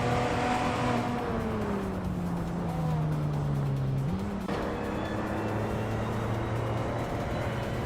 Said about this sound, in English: Rob Sizzle is driving a Ferrari 308 GTS from 1985.